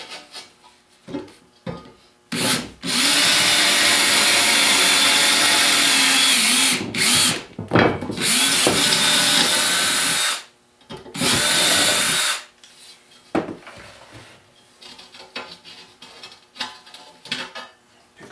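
A power drill bores into 1/8-inch steel plate in several loud bursts of a few seconds each, whining steadily, then stops, leaving quieter scraping and handling noises.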